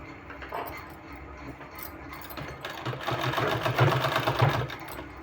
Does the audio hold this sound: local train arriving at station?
no